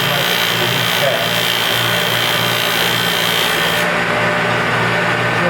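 Continuous abrasive whirring of a Felder Profil 45 shaper running a 60 mm Schleiffix sander attachment against wood, a steady loud hum with rubbing texture throughout, close up.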